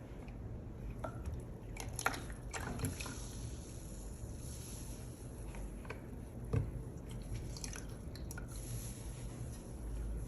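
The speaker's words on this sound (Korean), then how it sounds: "지금 초벌기 가루들이 굉장히 날아다니고 있기 때문에 스펀지로" A damp sponge wipes over bisque-fired pottery, giving soft, faint wet squishing and rubbing strokes in a quiet room, with a few small taps.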